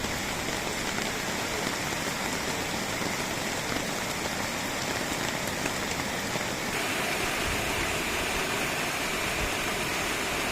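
Heavy rain pours down in a dense, constant roar at Thalayad, Balussery, Kerala, during flash flooding, unbroken and close for the whole stretch, with no voices.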